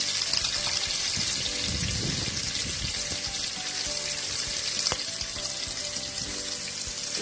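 Chopped onions fry with cumin seeds in a pan for coconut rice, giving a steady, even sizzling hiss that runs without a break and has no talking over it.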